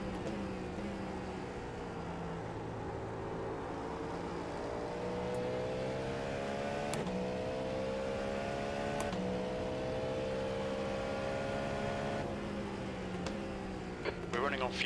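Cadillac LMDH prototype race car engine at Watkins Glen in iRacing, a steady sustained drone with rising and falling harmonic sweeps through gear changes, loud and continuous, with faint talk over it.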